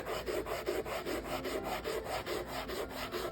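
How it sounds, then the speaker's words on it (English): A rust eraser scrubs back and forth across a rusty DMT diamond sharpening plate, making a steady, close rasping rub in quick regular strokes that continues evenly throughout with no voices over it. "use the rust eraser on it"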